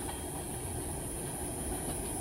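A CSX autorack freight train rolls past at Marion Union Station in Ohio, crossing the rail diamonds with a steady, loud, broadband rumble and rattle that continues the whole time with no talking.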